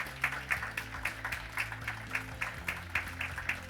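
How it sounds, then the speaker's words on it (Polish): Steady applause at an awards gala, with rhythmic clapping peaks, moderately loud, over a low sustained musical tone. "poprosimy o brawa na finalne zdjęcie"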